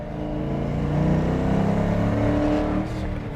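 A Ford Mustang with a T-5 manual gearbox and a short-throw shifter accelerates from inside the car, its engine droning loud and close as the revs climb, with a brief dip near the end that may be a gear change.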